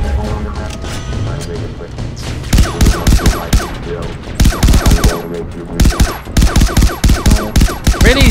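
A Robocop-style gun fires in the Far Cry 3 Blood Dragon video game, loud rapid bursts of sharp repeated shots that come in several clusters, with game sounds and some talk mixed in.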